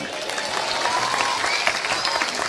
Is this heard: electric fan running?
no